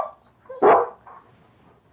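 A bulldog indoors gives one loud, close bark with a few quieter yelps and whimpers around it, then falls mostly silent.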